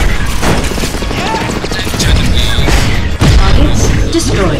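Missile launcher explosions in the Cars 2 video game's Runway Invasion mission rumble as a dense, loud barrage of booms over a constant droning background, with a brief dip near the end.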